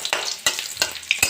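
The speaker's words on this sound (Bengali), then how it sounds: "তেল গরম হয়ে গেছে, দিয়ে দেবো রাঁধুনি, শুকনো লঙ্কা, রসুন। ভালো করে ভেজে নেব।" Radhuni, dried chilli and garlic crackle and sizzle in hot oil, with bright spitting bursts at regular intervals over a steady frying hiss, close and fairly loud.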